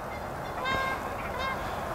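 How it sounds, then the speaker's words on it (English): A pair of geese honk out in a forest, a few harmonic calls rising around the middle of the clip over steady outdoor background noise, moderately distant. "is a goose couple."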